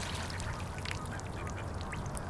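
Young trumpeter swans, almost a year old, give repeated faint honking calls over a noisy outdoor background, with no talking.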